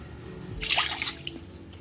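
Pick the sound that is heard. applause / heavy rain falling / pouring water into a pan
pouring water into a pan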